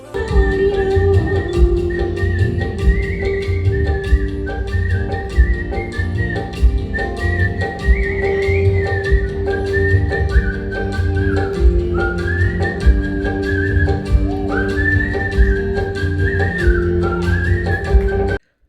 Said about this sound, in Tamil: அந்த அளவுக்கு ஒரு பாடலை தன்னோட விசிலிங் திறமை மூலமாகவே ஹோல்ட் பண்ணக்கூடியவர்